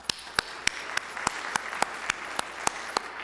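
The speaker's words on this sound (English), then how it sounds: "So please join me in giving him a hearty round of applause" Sparse applause for Jeff Musson at a club event, a few hands clapping in a steady, fairly quiet pattern of distinct individual claps.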